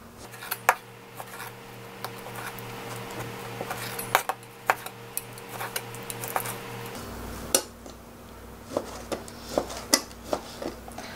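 A knife slices pork tenderloin on a cutting board for sweet and sour pork, giving scattered sharp taps and clicks at an uneven pace, close and quiet under a faint steady hum, with no talking.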